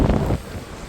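Wind gusts across the open deck of the Virgin Scarlet Lady cruise ship on a warm sea day, buffeting the microphone with a loud low rumble that drops off into a softer whoosh.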